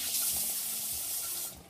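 Shiitake mushrooms rinsed under a running kitchen tap, a steady soft hiss of flowing water for under two seconds, fairly quiet and close, tapering off at the end.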